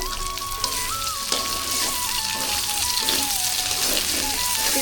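A homemade crispy chop fries in hot oil in a pan, giving a steady, close crackling sizzle. A thin wavering tone sounds faintly behind it.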